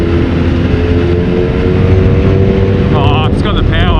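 A BMW R nineT motorcycle engine pulls steadily under acceleration, a continuous loud droning hum with heavy wind rush over the microphone, and a brief burst of rising whine near the end.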